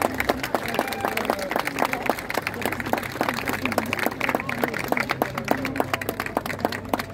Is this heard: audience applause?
yes